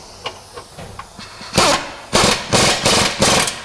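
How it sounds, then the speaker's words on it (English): A wrench tightens a rear suspension bolt on a Nissan Cube, starting with a few light clicks and then five loud, evenly spaced rattling bursts close by, with no talking. "Get your wrench on it."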